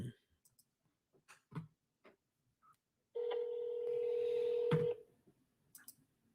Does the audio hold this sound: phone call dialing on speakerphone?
yes